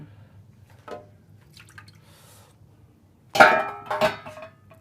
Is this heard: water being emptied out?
yes